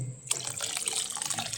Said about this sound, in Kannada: ನಾನಿಲ್ಲಿ ಬಿಸಿ ತಣ್ಣಗೆ ಆದಂಥ ನೀರು ಹಾಕ್ಕೊಳ್ತೇನೆ